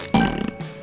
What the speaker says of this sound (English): So we fart whenever we get a penny.